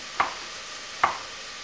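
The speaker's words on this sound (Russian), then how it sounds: "выжимает воду и мелко их нарезает" A knife chops soaked, squeezed-out dried mushrooms being cut finely for a mushroom risotto, giving two crisp, close chops about a second apart with quiet room air between and no talking.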